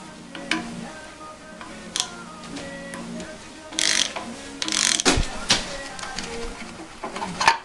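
A ratchet undoing the two 13 mm bolts of the vacuum pump on a 2000 BMW 530d E39 engine gives several short bursts of clicking, with metallic tool knocks and clatter between them, fairly close and moderately loud.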